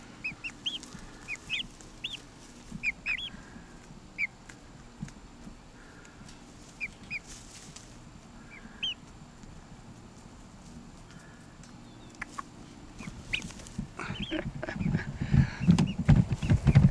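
Chickens about six weeks old, one with a crossed beak, cluck and chirp softly in a coop, scattered calls near and far, with rustling and a louder burst of movement toward the end.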